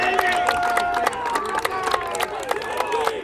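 A crowd at a boys' high school baseball playoff game, West Side vs Northampton, cheers after a hit. The roar is loud and sustained, with shouts and whistle-like calls rising above the steady crowd noise.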